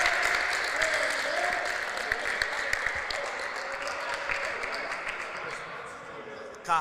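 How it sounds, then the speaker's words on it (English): A varsity team claps together after a 4-2 win over Campus Magnet, a fast patter of many hands under a low murmur of voices, moderately close in a gym. "And listen to them clap it up."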